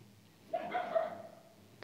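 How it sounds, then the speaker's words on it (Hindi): A dog barks outside, a single short burst of barking and yipping heard at moderate distance over a quiet room, with no one talking. "पता नहीं किसका कुत्ता है चुप ही नहीं हो रहा भौंक के ही जा रहा है"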